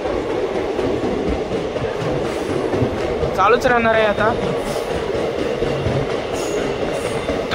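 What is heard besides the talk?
passenger train running at speed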